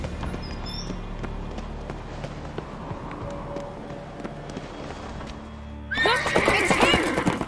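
In The Witcher 3, a horse is ridden at a gallop, with steady hoofbeats throughout and then a loud, close, shrill neigh near the end, set against ambient game sound and with no talking.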